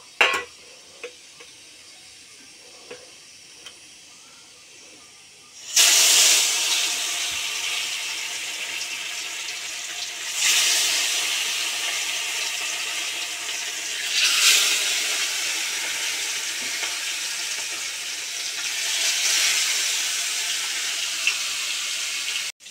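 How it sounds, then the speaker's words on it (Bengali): Fish dropped into hot oil in a home kitchen sets off a sudden loud, steady sizzle that keeps going, with a few swells in intensity as the pieces fry. "দেখতে একটু তেল গরম হয়ে গেছে, আমি এবারে মাছটা দিয়ে দেবো। মাছটা ততক্ষণ ভাজা হোক।"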